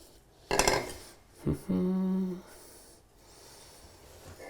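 Plastic drain pipe fittings are pushed together during a bathroom double-sink remodel: a couple of sharp, close clacks, then a short squeaky scrape as the pieces slide into place, then quiet.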